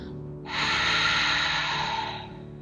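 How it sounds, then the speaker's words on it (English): Ujjayi breathing through the nose with the back of the throat narrowed, from a children's yoga class: a single steady, ocean-like breath about two seconds long, close to the mic with no talking. "we're gonna make that same sound, but through our nose"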